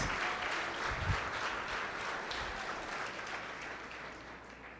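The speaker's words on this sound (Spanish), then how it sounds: "Dale un aplauso fuerte al Rey de Reyes y Señor de Señores." A church congregation gives a sustained round of applause, a dense, steady wash of clapping that holds at a constant level throughout.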